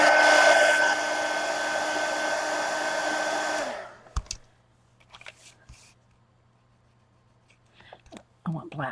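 A hair dryer blows at close range for about four seconds to dry a mixed media collage art card, a steady loud whoosh that cuts off abruptly, followed by faint handling clicks and rustles.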